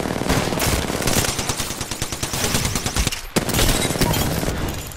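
Rapid automatic gunfire in the Apex Legends video game, loud and dense bursts of shots rattling continuously with a brief break near the middle, no talking.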